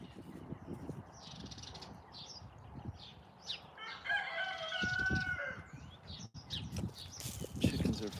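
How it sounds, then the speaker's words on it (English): Chickens cluck nearby while a rooster gives a drawn-out crow in the middle, outdoors in a farmyard, with a person talking intermittently over the birds. "Chickens are fucking weird."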